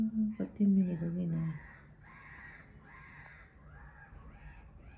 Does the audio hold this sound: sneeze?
no